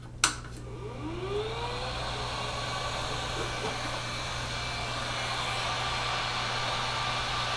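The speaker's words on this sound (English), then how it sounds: "my heat gun" A heat gun blows steadily on a 3D-printed part from a Creality Ender 3 S1 fitted with a high-flow kit, a constant airy roar with a motor hum that holds unbroken for several seconds after a sharp click at the start.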